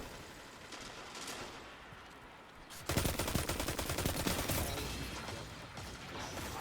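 Auto rifle fire in a Destiny Iron Banner match, a fast even-paced stream of shots that starts abruptly partway through and keeps rattling steadily at close range, with no speech.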